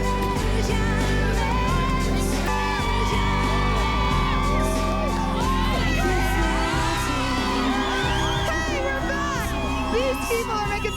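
A packed concert crowd waiting for the headliner cheers, whoops and screams continuously, a dense, loud roar of many voices with shrill yells rising throughout.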